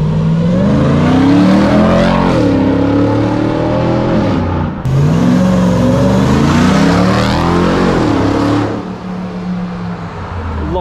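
A 6x6 RAM T-Rex truck engine roars loudly as it launches and accelerates, with repeated surges as it shifts gears before easing off toward the end.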